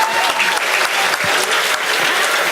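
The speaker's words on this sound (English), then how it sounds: "Clap for Shannon." Audience applause at a Chaldean American Chamber awards dinner, a dense, steady wash of many hands clapping loudly and continuously throughout, with no talk over it.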